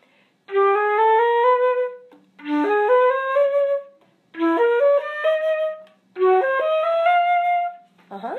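A flute plays four short ascending phrases of quick notes, each group separated by a brief pause, clear and close with no talking.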